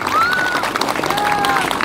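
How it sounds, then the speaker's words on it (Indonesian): A crowd applauds and cheers for santri, Islamic boarding school students, at an Indonesian gathering. Dense clapping fills the whole stretch with high whistles sliding across it. "Tepuk tangan untuk para santri semuanya."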